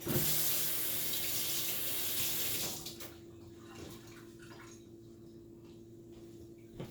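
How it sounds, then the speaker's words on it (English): Tap water runs loudly into a sink while hands are washed in a home kitchen, then cuts to a quieter, softer stream with faint splashes and drips for the remaining seconds. "Wash my hands."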